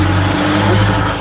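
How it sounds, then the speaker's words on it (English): A truck rumbles past a house as a loud, steady close engine roar that swells slightly mid-pass, with no voices. "Is a truck driving through your house?"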